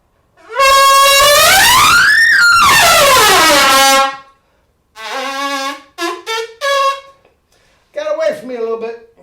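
A brass player sounds a long bending horn-like buzz that swoops up and back down, then a series of short choppy buzzed honks with gaps between them, loud and close.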